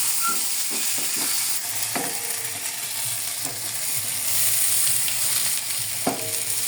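Food frying in a kawali as a spatula stirs it, with a continuous bright sizzle and irregular scraping strokes against the pan, close and steady throughout.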